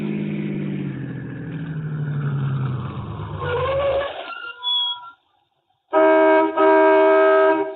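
A car engine close by, easing down in pitch as it slows and pulls into a gas station. It cuts out to a brief silence, then a sustained bell-like tone follows.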